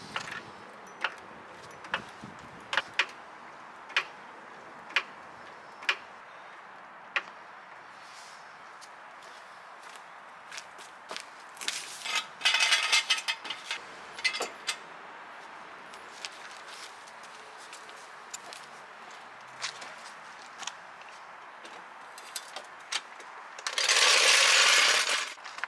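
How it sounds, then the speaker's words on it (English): A floor jack raising a 2011-2014 Dodge Charger from the front subframe, a 2x4 on the jack pad: faint, evenly spaced mechanical clicks, a cluster of rattling near the middle and a brief rushing burst near the end. "Raise the vehicle up using a floor jack from the front subframe."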